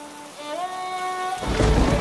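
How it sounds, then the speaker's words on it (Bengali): Heavy storm with rain: a soft tonal musical passage gives way abruptly to a loud, dense burst of rain roar with low rumbling underneath for the final half second. "বাইরে প্রচন্ড ঝড় বৃষ্টির আওয়াজ যেন পরিবেশকে আরো কষ্টের করে তোলে"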